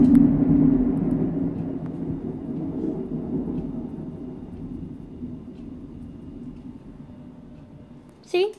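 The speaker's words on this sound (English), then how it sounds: "That was a big lightning there." Thunder from a big lightning strike during a Labor Day storm rolls in as a deep, loud rumble that slowly fades over several seconds, with a person speaking over it.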